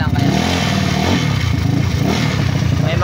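A modified Mio scooter with a 218cc engine idling with a steady, rhythmic knocking rattle, loud and close throughout, without speech.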